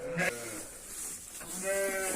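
Sheep bleat during feeding time on a farm, with a couple of clear calls near the start and another toward the end over a steady background of flock noise.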